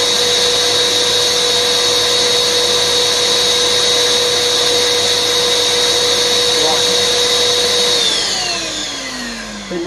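Record cleaning machine vacuum suction whining loud and steady, then spinning down as the motor is switched off near the end.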